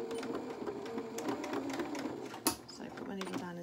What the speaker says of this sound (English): I'm just going to sew nice and straight